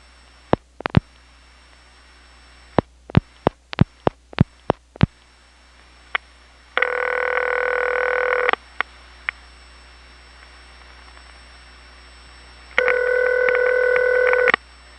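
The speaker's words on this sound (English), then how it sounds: "You'll notice that the first ring sounds rattly, and the remaining rings just sound very clear" On a 1977 XY step telephone exchange test line, a burst of dial pulse clicks is followed by two long ringback tones, the first rattly and the second clear, heard close over a low line hum.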